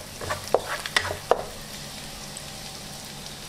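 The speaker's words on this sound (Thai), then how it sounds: "แล้วก็ใส่หอมแดงสับลงไป2ช้อนโต๊ะค่ะ ผัดค่ะจนกว่าหอมแดงจะสุก" Chopped shallots stir-fried in a pan for pad thai, with a few clinking strikes of a spatula at the start and then a low, steady sizzle, no talking.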